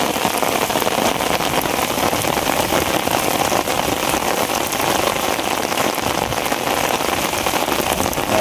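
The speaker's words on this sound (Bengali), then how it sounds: "এত পরিমাণ বৃষ্টি হইতেছে" Heavy rain pours steadily over a riverside char during a fishing trip, a dense, loud, unbroken hiss of drops drumming on surfaces with no voices.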